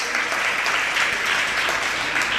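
An audience at a religious discourse by Muni Vimal Sagar Ji Maharaj breaks into steady applause, a dense, even clatter of many hands that holds for the whole stretch, with faint voices underneath.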